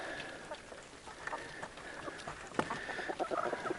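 Several chickens cluck softly nearby in quick, scattered bursts over a faint background hum, growing busier toward the end.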